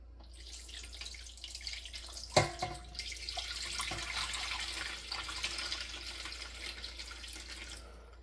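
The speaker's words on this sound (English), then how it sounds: "Shake it a little bit to get all that flour out of there." A flour and gravy mixture is poured and shaken out of a container into a roasting pan for a boneless ribeye roast, giving a soft, continuous liquid pouring wash after a sharp knock, close and fairly quiet, with no talking.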